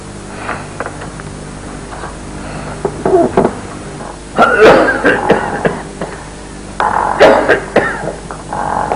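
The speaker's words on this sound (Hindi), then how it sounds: "खांसी बहुत है रात से।" An elderly man with a persistent overnight cough coughs in a doctor's room, a series of rough, throaty bursts in uneven clusters, close and fairly loud, with short quiet gaps between fits.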